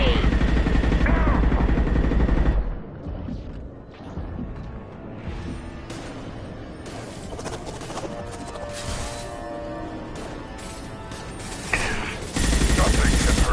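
Gunfire in the Mass Effect 2 video game, loud bursts of rapid weapon fire at the start and end with quieter sporadic shots and mechanical clatter between, and a voice speaking during the fight.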